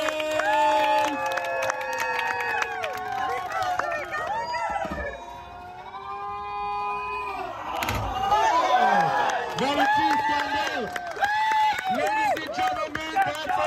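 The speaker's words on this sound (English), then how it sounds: "Everybody clap." A crowd on Oahu, Hawaii, cheers and whoops with scattered clapping, many voices rising and falling in loud overlapping shouts that dip briefly in the middle before swelling again.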